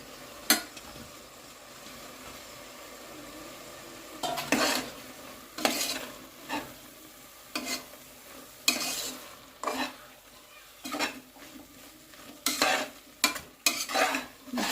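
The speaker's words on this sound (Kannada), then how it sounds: "ಇದಕ್ಕೆ ನಾನು ಈ ಮಶ್ರೂಮ್ನ ಹೆಚ್ಚಿಟ್ಟಿರೋದನ್ನ ಹಾಕ್ತಾ ಇದ್ದೀನಿ" Chopped mushrooms fry in a pan for mushroom biryani, a low continuous sizzle broken by repeated loud scraping stirs of a spoon against the pan, close and without talk.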